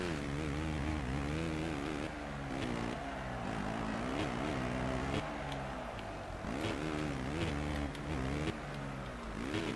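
Motorcycle engine in the MXGP motocross video game, a continuous buzzing roar that rises and dips through gear changes and a brief skid, loud and steady throughout with no talking.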